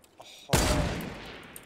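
Video game gunfire from a squad all shooting at once: one sudden, loud burst of simultaneous shots that cracks out and then rings away over about a second, with no talk over it.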